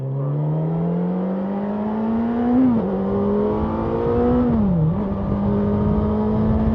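A 2018 Honda CB1000R motorcycle pulls away from a slow start with a loud, close engine tone that climbs steadily, dipping briefly at two gear changes before rising again; no talking.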